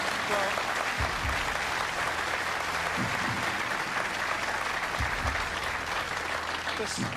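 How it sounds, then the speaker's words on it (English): A studio audience on a 2005 Australian Who Wants To Be a Millionaire broadcast applauds in a sustained, even roar of clapping, with a few faint voices mixed into the background. "I reckon that deserves a round of applause, ladies and gentlemen."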